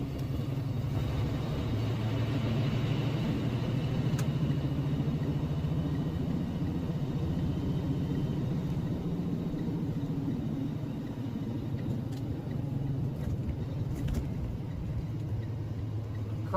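A heavy truck with a 10-speed transmission idles along in 7th gear, its deep, steady engine rumble continuous and fairly loud throughout, with no talk over it.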